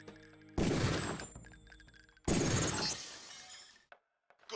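Gunfire and glass shattering in the video game Deus Ex, two loud bursts of breaking glass with crashing debris, close and dominant, followed by a brief near-silence and faint clinks.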